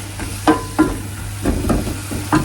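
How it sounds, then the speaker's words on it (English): Garlic cooking in a pan with a little salt gives a soft background sizzle, broken by a few sharp, evenly spaced knocks and scrapes of a utensil, close by and with no talk. "Let the garlic cook a little bit."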